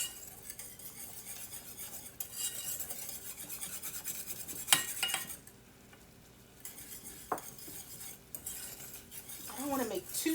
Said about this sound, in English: I'm going to keep stirring.